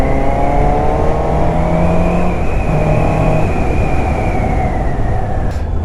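A 2019 Suzuki GSX-S 750 motorcycle in A2 trim rides steadily, its engine giving a loud, continuous drone with a rising and falling whine, and wind rushing throughout with no talking.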